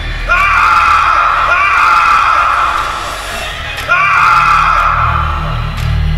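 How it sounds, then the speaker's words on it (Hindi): A man screams in terror in a haunted-mansion horror story, a loud sustained yell with wavering pitch, repeated in two long bursts over a dense low rumbling background. "चीख पड़ा।"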